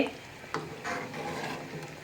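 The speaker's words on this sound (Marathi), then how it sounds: "असे कमी गॅसवर थोडा वेळ उकळू द्यायची" Soft stirring and a faint bubbling sizzle from a pan of usal curry simmering on low gas, with occasional scrapes of a utensil, quiet and close.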